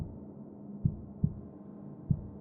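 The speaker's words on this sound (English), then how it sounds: "feeling a heartbeat pulsating against my hand" A heartbeat sound effect: three dull, low thumps at an uneven pace over a soft, muffled hum, with no voices.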